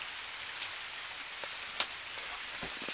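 Heavy rain falls at a campsite as a steady, faint hiss of drops with a few sharper close taps scattered through it.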